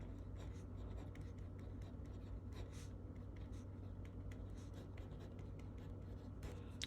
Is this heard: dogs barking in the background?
no